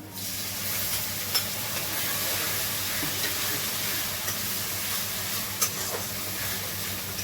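Onion, ginger and garlic paste frying in a pan, an even close hiss of sizzling oil with a few faint clicks, steady throughout.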